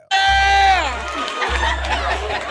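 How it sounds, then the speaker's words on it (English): Crowd in a club reacting loudly, a dense swell of cheering, shouting and chatter under thumping bass music, near and sustained with a brief dip before surging again. "Do you see the reaction of the crowd?"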